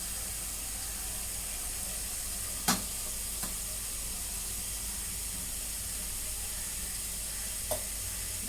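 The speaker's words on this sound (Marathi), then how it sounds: "आणि याच्यामध्ये पाणी ओतते" A soft, continuous sizzle and hiss of liquid hitting a hot pan, with a couple of faint clinks.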